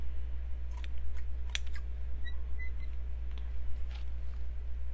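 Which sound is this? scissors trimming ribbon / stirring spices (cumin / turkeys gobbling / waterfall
scissors trimming ribbon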